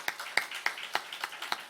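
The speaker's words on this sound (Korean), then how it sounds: "우리 성사님 격려의 박수 한번 합시다." A church congregation at a Sunday service claps in encouragement, steady rhythmic applause with sharp, evenly spaced claps, fairly close and clear, with no voices over it.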